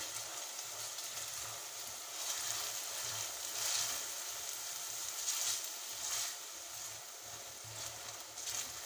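Onions fry in a pan with a teaspoon of salt for Kashmiri-style tinda gosht, giving a soft, continuous sizzle that is faint and steady and swells gently now and then.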